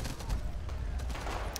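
In the World War II shooter Enemy Front, gunfire crackles in a dense run of overlapping shots and bursts, loud and continuous through the short stretch.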